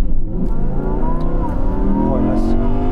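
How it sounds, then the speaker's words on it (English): Audi R8 Spyder bogging during a drag race launch, its engine note droning low and strained rather than climbing cleanly, loud and close with rough, sagging revs over a few seconds. "here's me having the problem with the car bogging down in some drag races."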